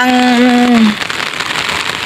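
Heavy rain pours during an outing to a hot springs spa, a steady broadband wash of rain noise that takes over after a brief voice-like tone at the start.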